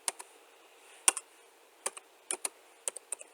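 Computer keyboard keys clicking in irregular bursts of single taps and short clusters, close and fairly quiet, with no voices.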